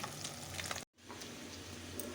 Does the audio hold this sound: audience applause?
no